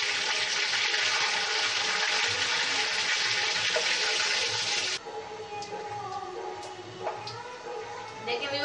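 Cumin and black peppercorns sizzle hard in hot oil for a pumpkin (kashiphal) sabzi, a loud broadband crackle that drops abruptly to a softer, steadier fry about halfway through.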